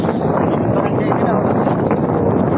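Strong wind at a seaside port buffets the microphone in a loud, continuous roar with no letup.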